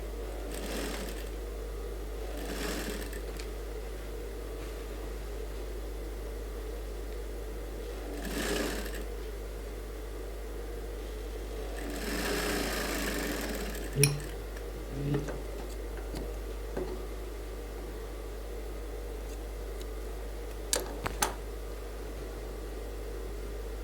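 An electric sewing machine stitching suit fabric runs in several short bursts separated by pauses, with a low steady hum and faint clicks and handling noises between runs.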